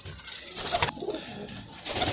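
Soft pigeon coos repeat in the foreground at a pigeon loft in Lahore, over a steady background hiss, with a few brief louder bursts and no talking.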